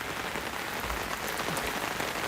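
Steady rain falls hard and close, a dense, continuous hiss of drops hitting surfaces with no pauses, and no voices over it.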